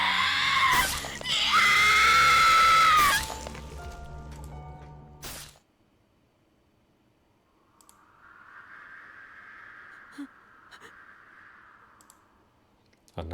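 Chilling screams of a man vomiting blood in the horror visual novel Iwaihime: a loud, strained shriek for about three seconds, then silence and a faint rising wail further off.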